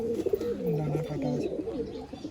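Pigeons kept for sale in Garia coo close by, a few soft, wavering throaty calls overlapping, with a faint voice underneath.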